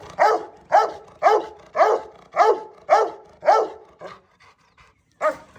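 Big dog named Kane barking in an agitated fit, a rapid series of about nine loud, evenly spaced barks close by, pausing briefly before one last bark.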